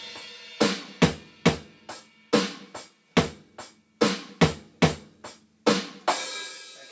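A drum kit plays a steady groove: punchy kick and snare hits with cymbal wash, ending on a ringing open hi-hat.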